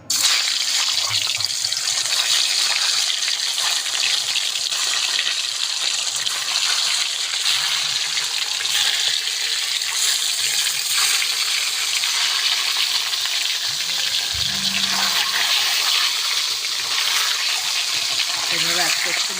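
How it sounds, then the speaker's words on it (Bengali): Eggs fry in hot mustard oil in a kadai, sending out a loud, dense sizzle that holds steady throughout, with faint low stirring or scraping sounds now and then. "কড়াতে দিয়ে দেবো সরষের তেল ডিম ভাজার জন্য।"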